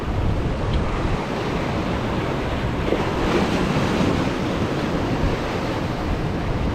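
Energetic surf rolls onto a beach at Prachuap Khiri Khan at night, a steady broadband roar of breaking waves with wind gusting across the microphone, loud and continuous with no voices.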